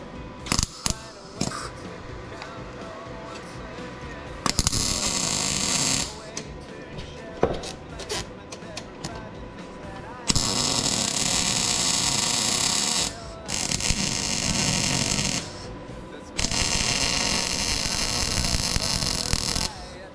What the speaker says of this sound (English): I'm welding as if I've never welded in my life before right now